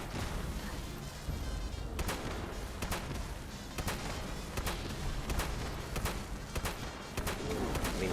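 Gunshots from a Cold Shoulder build in Fallout 76, fired at a legendary ghoul: sharp broadband cracks at irregular intervals over a steady game ambience, moderately loud.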